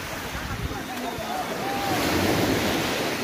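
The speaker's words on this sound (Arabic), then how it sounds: "البحر اللي في الطريق ديال الساحلي مخيف." Sea waves break along the coastal road near Nador, a steady rushing surf mixed with wind buffeting the microphone, swelling slightly louder toward the end, with a faint voice in the background.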